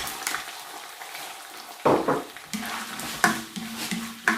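Onions frying in a pan give a soft sizzle broken by a few louder stirring and scraping bursts, close and moderate in level, with no talking.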